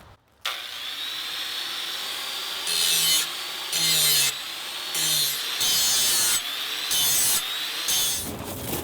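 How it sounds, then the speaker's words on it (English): A 4-inch angle grinder sharpens a lawn mower blade, its steady high whine and rasping grind running continuously at close range and swelling in louder bursts as the blade is pressed against the disc. "I'm using a 4-inch grinder to sharpen the blades"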